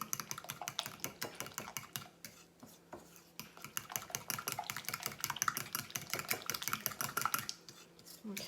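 A quarter cup of flour is whisked into chile relleno batter, a rapid run of light clicking taps from the utensil against the bowl, steady and close with no voices.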